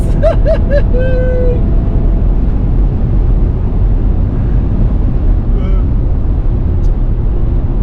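A 2025 BMW X3 at over 200 km/h on a road in Germany, heavy, steady wind and road roar filling the cabin, loud and unbroken, with a few short tones early on.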